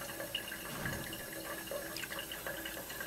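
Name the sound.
distillate dripping from moonshine still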